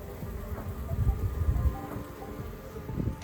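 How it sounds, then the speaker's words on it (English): A steady buzzing hum of many bees moving into their colony, close by, with low droning and faint rustles throughout; no one speaks. "these bees should pick this up and go into the colony"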